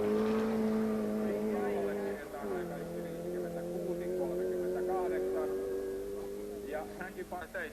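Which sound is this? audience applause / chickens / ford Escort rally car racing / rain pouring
ford Escort rally car racing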